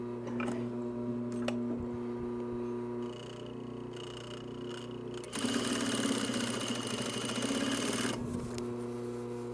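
A sewing machine runs two rows of top stitching along a half-inch turned hem on a shoulder bag. It hums steadily, then swells into a louder, denser run for a few seconds before settling back. No one speaks.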